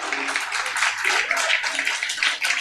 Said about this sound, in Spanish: ¿Y un aplauso para el Señor o no?